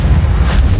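In Hogwarts Legacy on PC, a Reparo repair spell goes off as a short, heavy, booming burst of magic lasting under a second, loud and close, with no voices.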